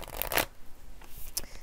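Cards from a Halloween Oracle deck shuffled by hand, two quick riffling bursts in the first half-second, then quieter, scattered card taps and rustles, with a brief sharp snap near the end.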